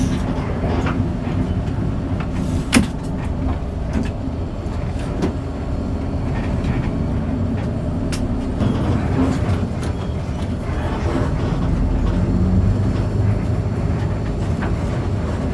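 Interior of a Damri JR Connection bus cruising on a toll road, a steady loud engine and road rumble with occasional sharp rattles and knocks throughout.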